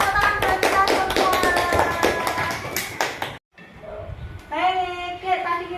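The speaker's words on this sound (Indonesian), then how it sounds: "Tepuk tangan buat kita semua." A classroom group claps in quick rhythmic unison, loud and close, then the clapping stops and a voice follows.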